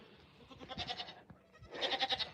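Goats bleating on a homestead at evening chores, a couple of soft, wavering bleats in quick succession, fairly quiet and close by with no talking.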